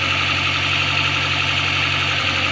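A car engine that struggles to start idles unusually high, a steady loud drone with a constant low hum and even mechanical whir throughout, heard close with no talking.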